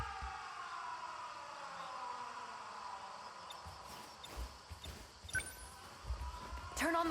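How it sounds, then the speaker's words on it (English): A wailing air raid siren tone in the video game 13 Sentinels: Aegis Rim slowly falls in pitch and drones on, joined later by scattered thumps and clicks, with speech in the background. "The sirens."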